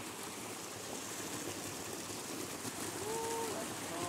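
Cold glacier water flowing in a stream in New Zealand, a faint, steady broadband rush and trickle heard from close by in open air, with a few soft chirping tones near the end.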